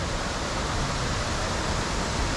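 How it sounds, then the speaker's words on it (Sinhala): Waddapani Ella waterfall near Walpolamulla, Rathninda and Atanwala in Sri Lanka fills the air with a constant, loud, close rushing roar of falling water. "මෙන්න මේ තැනට තමයි වැද්දාපැණි ඇල්ල කියලා කියන්නේ."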